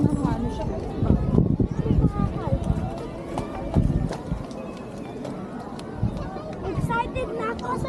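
Horse hooves clip-clopping at a running pace, a steady close rhythm of hoofbeats under frequent excited family chatter and calls.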